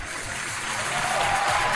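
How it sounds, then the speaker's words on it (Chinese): Steady, sustained clapping from a television studio audience welcoming a couple onto a relationship show, loud and continuous and swelling slightly toward the end. "掌声有请这一对，有请"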